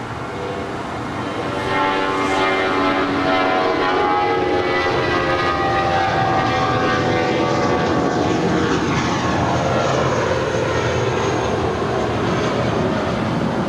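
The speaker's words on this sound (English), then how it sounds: "Next departure for us is Spirit Airlines flight 508 in the birthday cake livery. It's an A320 heading to Louisville" A Spirit Airlines Airbus A320 departing LAX, a loud sustained jet engine roar that swells within the first two seconds and holds steady and powerful throughout, heard from nearby with no talking.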